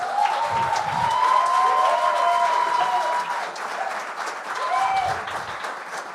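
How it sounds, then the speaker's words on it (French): Steady applause from a studio audience at a talent-show taping fills the clip, continuous clapping with a few voices and whoops rising above it. "Hey, on peut applaudir."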